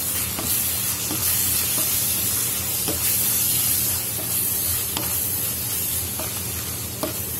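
Garam masala is stirred into a hot, sizzling pan for Kerala-style chicken roast, with a continuous hissing fry and a spatula scraping at irregular intervals.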